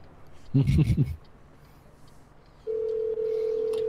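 A short burst of speech gives way to a steady, loud telephone dial tone from American Truck Simulator, which holds unbroken to the end.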